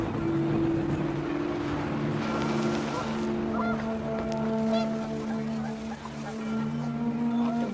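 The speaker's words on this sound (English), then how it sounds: "The wind picked up, and panicked geese appeared and quickly went." Panicked geese honk repeatedly in What Remains of Edith Finch, a dense overlapping chorus of loud calls over a windy, watery background.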